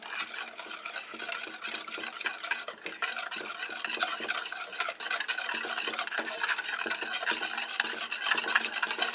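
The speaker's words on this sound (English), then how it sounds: "So I'm going to keep whisking" A whisk beats a pudding mixture for a Twinkie cake in a bowl, brisk rhythmic scraping and clicking strokes, close and continuous with no voices.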